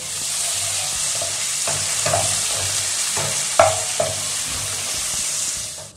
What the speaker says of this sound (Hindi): अब हम इसको मिक्स करेंगे अच्छे तरह